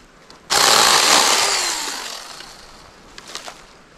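A TomyVic mini saw cuts into an evergreen tree outdoors: one close, loud, buzzing run of about two seconds that starts sharply and fades, then a few faint clicks and rustles.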